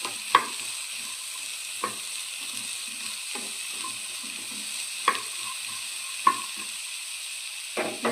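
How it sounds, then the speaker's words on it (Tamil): Bitter gourd sautéing with garlic in a pan, a soft steady sizzle punctuated by a few sharp clacks of a spoon stirring against the pan. "இப்போ பாவக்காய் போட்டுக்கலாம். அதையும் நல்லா வணக்கிக்கலாம்."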